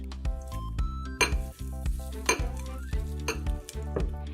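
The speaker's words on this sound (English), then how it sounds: "Let's mix that confetti in." Confetti is stirred into slime in a bowl, giving repeated clinking and wet squelching sounds in an uneven rhythm, close and fairly loud, with no talking.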